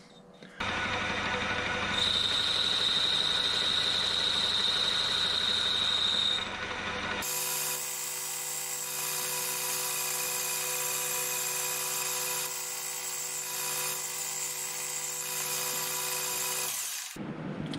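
An old lathe machines a part down to diameter, putting out a steady, loud mechanical whine with a shrill tone. The pitch shifts partway through, then the cut carries on without voices until it stops near the end.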